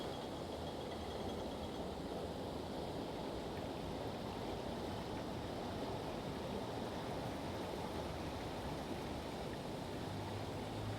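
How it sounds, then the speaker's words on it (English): Water from a canal lock pours into a side pound on the Staffordshire and Worcestershire Canal, a steady broadband rushing that runs unchanged throughout and sounds fairly distant and soft. "So there is the water coming into the side pound from the lock we've just shown."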